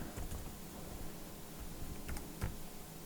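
Faint, sparse key clicks from typing on an ASUS ROG Strix G17 laptop keyboard, a few scattered taps over a quiet background hiss.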